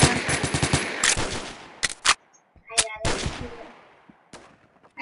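Gunfire in the video game Phantom Forces: a rapid automatic burst opens, then sharp separate shots and short volleys crack out irregularly amid pauses, loud and close, with occasional faint talk.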